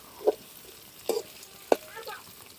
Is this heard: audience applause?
no